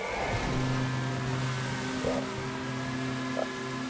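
Race car engine revving in GTA Online during a stunt race, a steady droning hum with sustained harmonic tones throughout, a couple of brief rises in pitch, loud and close.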